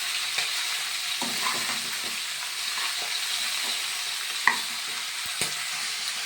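Food stirred in a frying pan over the heat, with a steady close sizzle throughout and a few soft scraping clicks as it is moved around; no voices.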